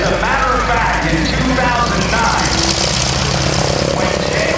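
A Stearman biplane's radial engine drones loudly and continuously at an air show, steady and nearby, with an announcer talking over it throughout.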